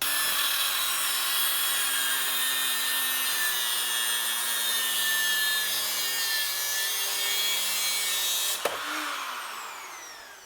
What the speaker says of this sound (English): I went ahead and cut the pieces.